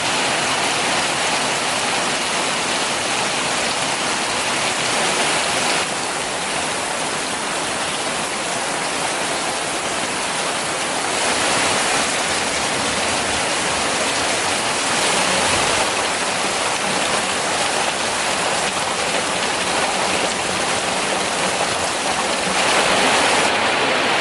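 Heavy rain pours steadily during a thunderstorm, a dense continuous hiss that stays loud throughout with slight swells, and no distinct thunder stands out.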